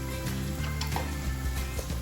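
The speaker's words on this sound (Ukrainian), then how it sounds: "буду баклажани смажити на розігрітій оливковій олії до рум'яної скоринки" Eggplant slices fry in hot olive oil in a pan, giving a steady close sizzle with brief clinks of a utensil or pan, and no voices.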